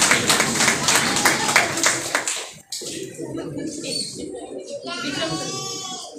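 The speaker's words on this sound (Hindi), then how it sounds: "जोरदार तालियां" Applause from an audience at an International Women's Day event on a law college campus, a sustained dense clatter of hands for the first two and a half seconds before it drops away to murmuring voices and faint bird-like tones.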